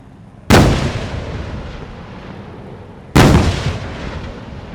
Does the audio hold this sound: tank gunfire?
yes